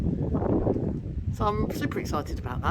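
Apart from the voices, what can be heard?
wind blowing outdoors, wind noise on microphone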